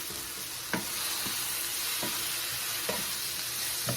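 Green beans cook on the stove with a steady, soft sizzle throughout. A few light spoon clinks come at irregular moments as they are stirred, near and without talk.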